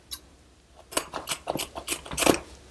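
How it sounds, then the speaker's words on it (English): Scissors snip through Christmas swag decor in a string of crisp, close cuts, several quick blade closes bunched into irregular bursts, alone without speech. "Scissors."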